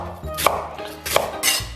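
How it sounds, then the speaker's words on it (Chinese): A kitchen knife chops an onion into thin strips on a cutting board, three crisp, evenly spaced knife strikes about 0.7 seconds apart, close and clear with no talking. "洋葱得赶紧切啊！"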